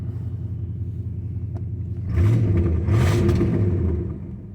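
A Chevy El Camino with a 305 V8 and carburetor idles with a low, uneven rumble, then revs up sharply for about two seconds before settling back toward idle, close and fairly loud.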